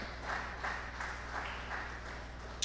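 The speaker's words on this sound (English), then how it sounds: "A round of applause for her." Faint, steady clapping from a conference audience, with soft rhythmic bursts of applause running continuously under a low background hum.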